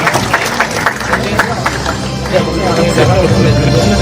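A crowd applauds steadily as a guest is invited forward at a formal Indonesian gathering, with the clapping continuing throughout amid a murmur of voices.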